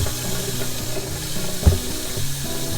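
Cold then hot tap water runs steadily from a travel trailer faucet, flushing out pink, foamy RV antifreeze during de-winterizing; a continuous close hiss with one brief louder knock midway.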